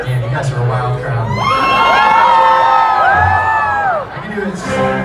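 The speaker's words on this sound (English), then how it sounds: "Damn, you guys are a wild crowd." A wild club crowd at a concert at the DNA Lounge in San Francisco cheers, whoops and shouts loudly, high voices rising in long excited yells that swell and fade over a few seconds.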